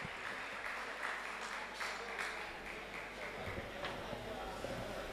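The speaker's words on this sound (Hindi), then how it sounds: "अगर आपको मजा आया तो एक भरपूर ताली दे दें" Audience claps at a Pakistani mushaira poetry gathering, a broad wash of applause with rhythmic clap accents running under a murmur of voices throughout.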